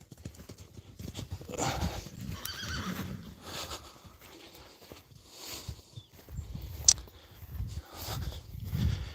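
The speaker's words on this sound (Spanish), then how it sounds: "caballo siempre da por correr" A horse whinnies amid clip-clopping hooves and shuffling movement, with a brief sharp high squeal partway through.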